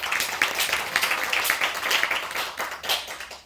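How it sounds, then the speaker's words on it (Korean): An indoor workshop audience gives a steady round of clapping, a dense patter of many hands lasting a few seconds at moderate level. "박수 한번 부탁드리겠습니다."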